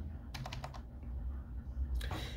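Quick, light keystrokes on a computer keyboard while searching in a code editor, a short burst of taps followed by a pause and a few more keys, faint and close under low room hum.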